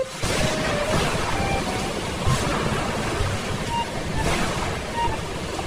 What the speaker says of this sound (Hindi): बहुत जोर का तूफान और बारिश आ जाती है